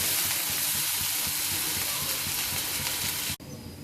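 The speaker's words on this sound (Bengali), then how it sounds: "আলুটা 5 থেকে 7 মিনিটের মতো এরকম আস্তে আস্তে ভাজলেই আলুটা রেডি হয়ে যাবে" Potatoes frying slowly in a pan over medium heat, giving a steady, close sizzle with a soft crackle that runs unbroken and then cuts off abruptly near the end.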